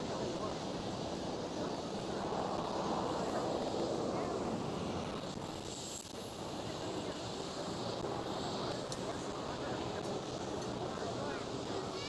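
A TAROM airliner in its 66-years livery at Schiphol airport passes with a broad, steady jet roar, muffled by wind buffeting the microphone.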